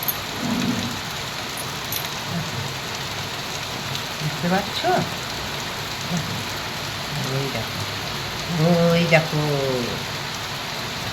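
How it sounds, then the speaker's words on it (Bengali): Heavy rain pours down steadily at home while water stands outside, a dense constant hiss under brief talking voices. "দেখো মুষলধারে বৃষ্টি হচ্ছে।"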